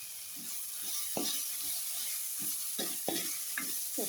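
A spoon scrapes and stirs spices with garlic and curry leaves around a pan. Rhythmic scraping strokes repeat over a soft, steady sizzle.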